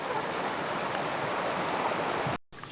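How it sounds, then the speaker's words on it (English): Stream water flows along a hiking trail that has turned into a stream bed, a steady close rushing and gurgling that stays even throughout before a brief cut near the end. "The whole trail is just a stream bed. We had so much water."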